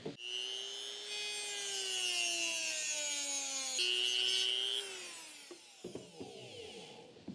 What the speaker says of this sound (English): It seems to be held on with just this rivet, so I think if I drill that out